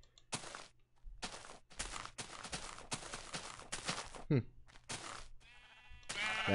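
Sheep in a video game give several short bleats in an irregular sequence, interleaved with other brief game noises, at moderate volume with no voices.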